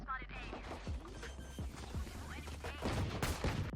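Rapid gunshots crack in a video game firefight, a dense string of sharp reports and impacts over a steady low rumble, with voices audible in the background.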